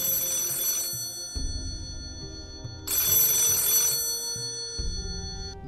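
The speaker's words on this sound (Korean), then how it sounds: "매우 소란스럽게 오래된 다이얼 전화가 울렸다." An old rotary dial telephone rings loudly in two long metallic bursts of clanging bell, with a ringing hum between them under a low background of music-like tones.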